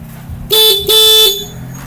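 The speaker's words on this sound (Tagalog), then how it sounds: "yung sa may stock horn niya po" A stock car horn sounds twice, a short toot followed by a longer steady blast, loud and close, with a faint engine hum underneath.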